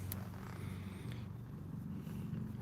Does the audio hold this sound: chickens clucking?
no